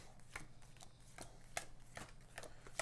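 A deck of board game cards is shuffled at the table. The clip holds a run of quick, soft riffling bursts, close and quiet, with no talking.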